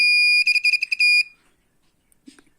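An Arduino MQ2 gas sensor alarm buzzer sounds a rapid series of high beeps, then one longer tone, then cuts off into near silence with a faint click.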